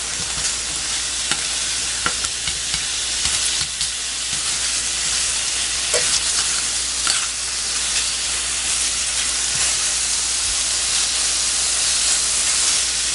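Rib eye steak bones fry in a hot pan with a steady, loud sizzle and hiss that runs continuously, broken by occasional small pops and crackles.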